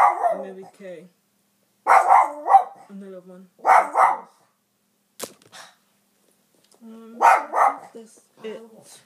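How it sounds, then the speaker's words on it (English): A pet dog barks in short, sharp bursts indoors, several barks spread across the stretch with pauses between them, close and fairly loud, while someone talks between the barks. "That's my dog."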